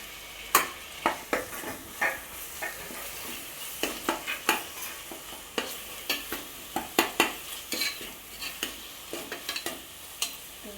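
Tomatoes frying in a pan for a mutton pulimunchi dish, with a low sizzle under repeated sharp scraping stir strokes of a spoon against the pan, in an irregular rhythm, close and fairly quiet, no speech.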